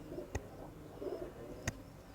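Pigeons in a rooftop loft coo softly, a few low murmuring calls at moderate distance, with two sharp knocks or clicks standing out against a quiet background.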